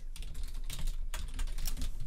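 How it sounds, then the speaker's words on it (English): Fast typing on a computer keyboard while entering text in a design program, a steady run of close, crisp key clicks with no talking. "Just typing this out."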